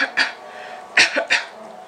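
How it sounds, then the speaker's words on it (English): A baby about one year old gives three or four short, close coughs in separate bursts with quiet gaps between them. "I taught him how to cover his mouth and cough."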